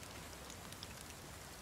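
Rain falls in the survival video game The Forest, a faint steady patter of drops on surfaces with no other sounds.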